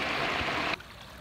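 A small waterfall on a stream rushes with a steady close hiss of falling water, then cuts off abruptly partway through.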